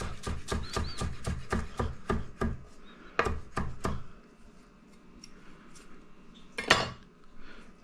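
Knife chopping fresh cilantro on a cutting board: a quick, steady run of close, sharp thuds, a brief pause, a few more strokes, then a last louder knock, with no voices.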